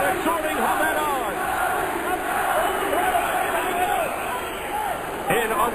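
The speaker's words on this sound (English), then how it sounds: "The crowd exhorting Hamed on." Boxing crowd at a featherweight bout roars and chants to urge a fighter on, a continuous dense swell of shouting voices with a commentator talking over it.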